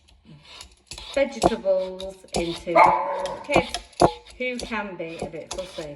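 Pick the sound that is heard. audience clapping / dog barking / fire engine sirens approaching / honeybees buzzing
dog barking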